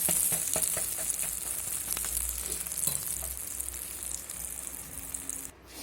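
Egg and paratha cook in a pan with a continuous close hiss and sizzle, a few soft clicks and taps over it, fading quieter at the very end with no voices.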